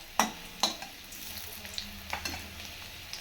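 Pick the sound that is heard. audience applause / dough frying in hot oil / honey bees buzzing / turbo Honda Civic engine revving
dough frying in hot oil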